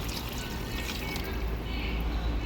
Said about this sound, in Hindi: 2 ग्लास पानी शामिल करेंगे।